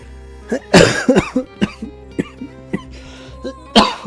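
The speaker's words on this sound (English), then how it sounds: "you guys are gonna hear me cough" Several close coughs and throat-clearing sounds come in uneven bursts, with a harsher cough at the start and another at the end.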